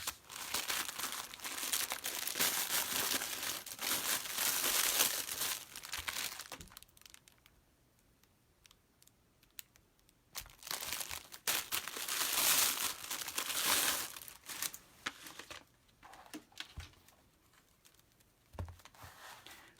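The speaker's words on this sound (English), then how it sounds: "we can begin cutting our mesh" Rustic mesh for a Christmas wreath being handled and cut: loud close crinkling and crumpling in long bursts, separated by a quieter stretch with faint snips and rustles.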